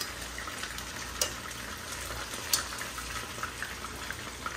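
Chicken frying in hot oil over a medium flame, a steady dense sizzle and crackle that stays even throughout, with a couple of sharper pops standing out, close and fairly loud, no voices.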